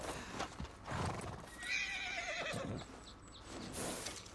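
Horse in the video game Red Dead Redemption 2 neighs and whinnies loudly while hooves clip-clop nearby, with no talk.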